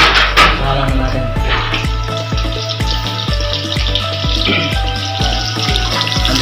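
A pork chop fries steadily in a hot pan, a continuous close sizzle with faint clinks of utensils, no voices.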